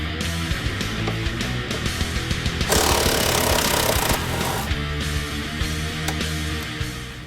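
A loud power tool hammers out a bolt from the rear subframe of a 2015-2023 Mustang, giving a dense rattling impact burst that keeps going for several seconds and swells louder in the middle.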